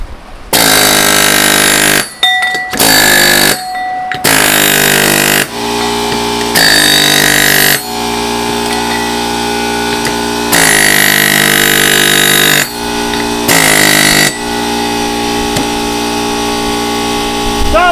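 An air-powered rock crusher running off a 25-gallon air compressor pounds gold ore chunks from an abandoned gold mine, giving loud, close, sustained pneumatic hammering in long bursts broken by short pauses.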